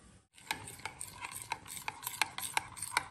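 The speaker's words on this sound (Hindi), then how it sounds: "एक कप दही के अंदर 1 चम्मच बड़ा यीस्ट डालेंगे और उसको अच्छी तरह मिक्स करेंगे" A spoon stirs yeast into a cup of yogurt, making repeated soft clinks and scrapes in a steady rhythm, close and fairly quiet, with no talking.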